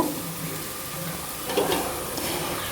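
Pumpkin leaf thoran being stirred with turmeric powder in a pan, giving a soft, steady sizzle and faint scraping with a brief louder stir midway, close and moderately quiet, with no talk.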